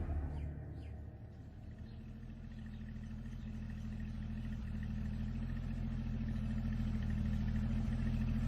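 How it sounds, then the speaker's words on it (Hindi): A car engine runs steadily with a low rumble that grows slightly louder as the vehicle is brought out, with faint birdsong in the background. "गाड़ी निकलवा।"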